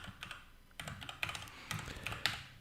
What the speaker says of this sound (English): I'm typing too fast for